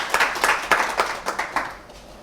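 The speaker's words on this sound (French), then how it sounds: "Oui, c'est bien d'applaudir parce que c'est une nouvelle très soulageante." Audience applause in a French television studio, a brief burst of scattered hand claps at moderate distance that thins out and fades toward the end.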